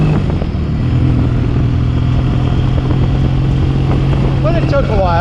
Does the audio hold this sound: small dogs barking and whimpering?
no